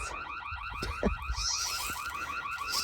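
A car alarm goes off outdoors, cycling through rapid warbling and chirping tones in a steady repeating pattern at moderate distance, with a few soft thumps and rustles under it.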